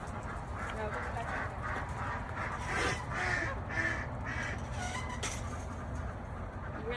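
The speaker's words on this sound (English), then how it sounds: "You hear the ducks?" Farm ducks penned up early quack repeatedly in a loose series of honking calls at moderate distance, with people talking quietly over the flock.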